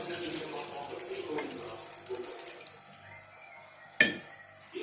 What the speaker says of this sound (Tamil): இப்போ நான் தண்ணி ஊற்றுறேன்.